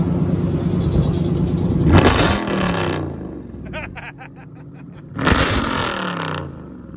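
A Chrysler 300 HEMI V8 engine roars through two sharp revs, surging high and then dropping back to a rough idle between bursts. Close by, with some shouting nearby.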